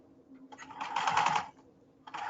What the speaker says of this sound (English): But I will jam it through the sewing machine.